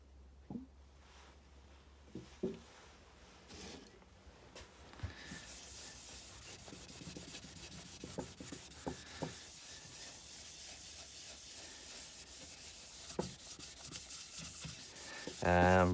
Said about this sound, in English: Rubbing it well in, just to get a good surface coating, and this will soak right into the wood straight away.